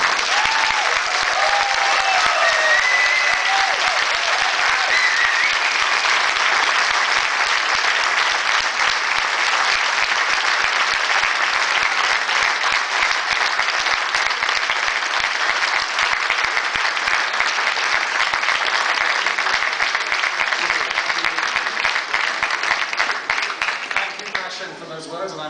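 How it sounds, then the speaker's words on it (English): Sustained applause from a graduation audience for an MBA part-time class ceremony, dense and steady clapping filling the hall for about 25 seconds before beginning to thin at the end. "we all deserve a huge round of applause"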